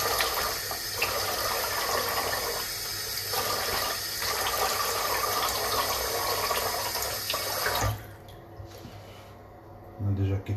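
Water runs steadily from a tap while a face is rinsed, a loud continuous splashing wash that stops abruptly near the end, leaving a quiet room with a faint thump.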